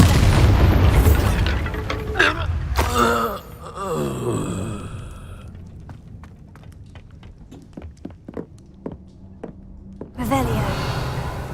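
A Bombarda spell detonates in a Harry Potter video game: a loud booming blast with breathy voice effects, then quieter scattered clicks and rattles before another burst of noise.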